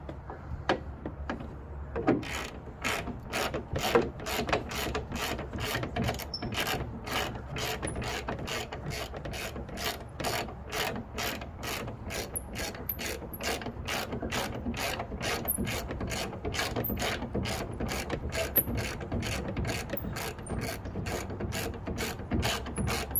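Ratchet wrench snugging a bolt on a Ford F150 tailgate damper, a steady run of sharp, evenly spaced clicks repeating for the whole stretch, close up and fairly loud with no talk.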